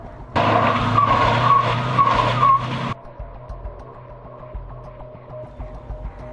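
A Toyota FJ Cruiser's tires spin and squeal loudly for a few seconds as it loses traction and the engine strains, then cut off, leaving a lower idling engine rumble.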